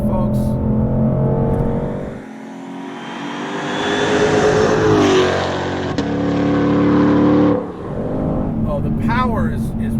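A 2020 Shelby GT500 with a 760-horsepower engine accelerates hard, close up and loud. The engine drops to a quieter stretch, then revs climb again in a long rising roar, with a brief lull before it builds once more.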